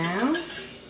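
A spoon stirs seasoned water in a cooking pot for meatball soup, giving a brief clink and scrape of metal on the pot, faint and close.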